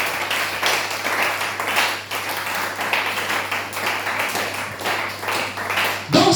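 A church congregation applauds during a French-language sermon, giving sustained, dense clapping that keeps going with slight swells and ends in a louder burst.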